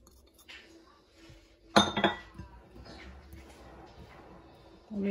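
Flour and fine semolina being mixed in a bowl, a close burst of clinking and scraping against the bowl with softer rubbing after it, quiet between the sounds and with no talk.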